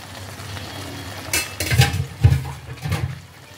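Fried paneer drops into simmering chili paneer gravy in a pan, with a few wet plops, spoon clinks and soft stirring against a low bubbling background.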